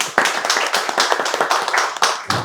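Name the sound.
students clapping for the institute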